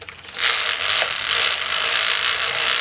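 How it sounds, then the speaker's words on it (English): A bicycle chain is pedalled backwards through a clamped chain-cleaning device filled with solvent, giving a steady, close, loud whirring rush with a ratcheting creak and no voices. "clamp it around the chain, and pedal backwards"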